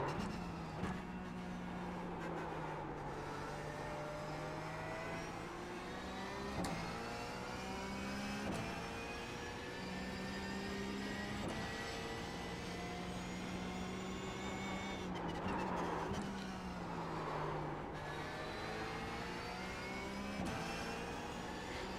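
A race car engine in the iRacing sim at Imola wails through repeated upshifts and downshifts, each gear sweeping up and dropping back in pitch, steady and sustained for the whole stretch without speech.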